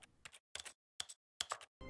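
A new clicky computer keyboard being typed on in short bursts of sharp clacks, close and fairly faint, separated by brief silences.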